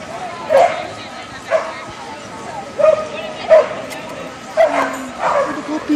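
A puppy in an outdoor setting near a fountain gives short yips and whimpers, five or six separate bursts spaced out over a murmuring background with people talking nearby.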